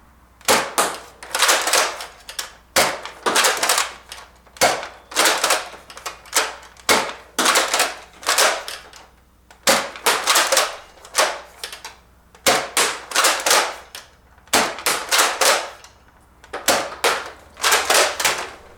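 Nerf Longshot sniper blaster fitted with all its attachments, shooting foam darts from a magazine: a rapid series of sharp, loud pops in quick bursts, each shot followed by mechanical priming clacks, with no talking.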